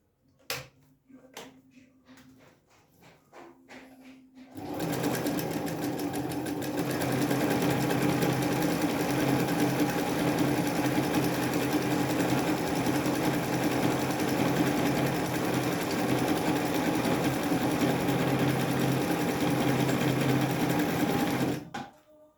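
Singer Felicita sewing machine stitching a diamond pattern: a few clicks and handling taps, then a loud, fast, continuous mechanical whirr of stitching running for about seventeen seconds before stopping abruptly.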